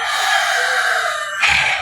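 A rooster crows loud and close, one long strained cock-a-doodle-doo that holds steady, then breaks into a higher final note, with no voices over it.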